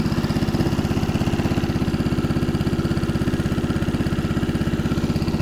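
The small engine of a SNOWDOG Compact motorized snow tow runs steadily nearby. It makes a loud, even, buzzing putter with no change in pace throughout.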